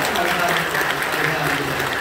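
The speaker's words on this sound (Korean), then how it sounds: "여러분 뜨겁게 박수 주시고 감사합니다." Steady applause from a congregation at a Korean church service, a dense continuous clatter of clapping hands filling the whole stretch at an even level.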